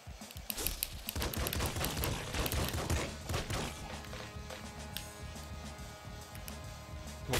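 Rapid automatic fire from a machine gun in the top-down shooter Nuclear Throne, a dense stream of sharp clattering shots running loud and steady through the whole stretch with a few heavier impacts mixed in.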